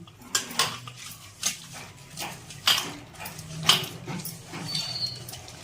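Cleaned prawns get mixed by hand with turmeric and salt in a bowl, giving a string of close, uneven clinks and wet scraping knocks against the dish, roughly one every half second.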